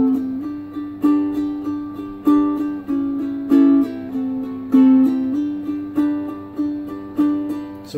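A strummed string instrument plays a chord vamp, with evenly spaced strums in a steady repeating rhythm, each chord ringing briefly before the next, close and clear with no talking.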